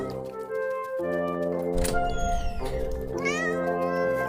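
Cat meows from the video game Cat Cafe, several distinct high mewing calls layered over steady game music, clear and prominent.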